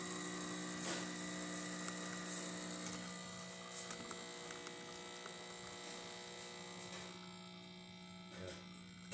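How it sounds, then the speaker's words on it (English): A Saeco Aroma espresso machine, freshly serviced, brews a shot with a steady pump hum and a constant electric drone, ending with a brief click. "let's go ahead and test it and make a espresso shot on it"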